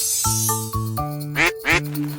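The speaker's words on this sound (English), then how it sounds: "It's a duck." A duck quacks twice in quick succession, loud and close, over a steady musical background.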